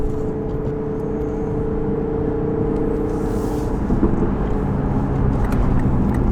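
A Lamborghini Performante engine hums steadily with a deep, droning tone, holding constant and swelling slightly louder toward the end, close and without any talk.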